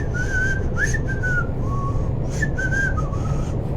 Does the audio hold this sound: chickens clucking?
no